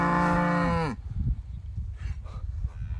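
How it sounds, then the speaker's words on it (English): A loud, close cow moo with a falling tone carries for about a second out in a field, followed by quieter outdoor rustling and faint distant sounds. "There's some cow over there giving it."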